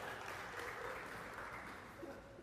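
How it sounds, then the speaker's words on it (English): Audience at a bank's all-associates meeting applauding steadily, a dense wash of clapping from a large room with faint voices underneath, holding level for a couple of seconds. "Give Greg Page a round of applause, by the way."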